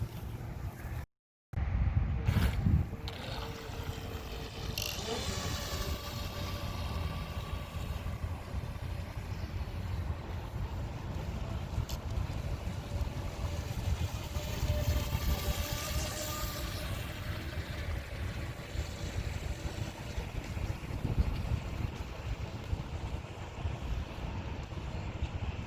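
A small battery-powered boat motor hums steadily along a shoreline, a faint whine under continuous wind and water noise, with a brief dropout near the start.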